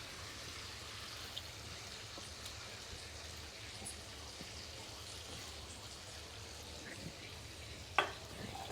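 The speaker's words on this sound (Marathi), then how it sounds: "थोडा कम गॅस करते आणि शिमला मिरची छान 2-3 मिनिटं परतवून घेते" Capsicum pieces sauté in hot oil and melted butter over a lowered gas flame for pav bhaji, giving a faint, steady sizzle with a few soft clinks and a sharper clatter near the end.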